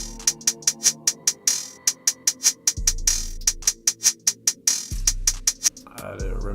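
An FL Studio hi-hat pattern run through glitch, stretcher and reverb effects, heard as stuttering, uneven ticks with smeared tails over deep bass hits, ending in a brief glitchy flutter.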